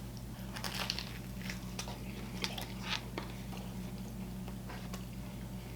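Someone bites and chews a crunchy Papa John's Parmesan crusted Papadia, with close, scattered crunches and mouth sounds in an irregular rhythm over a steady low hum. There is no speech.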